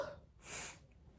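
A single short sneeze bursts out at close range, a sharp breathy blast after a quick inhale, with no talk around it.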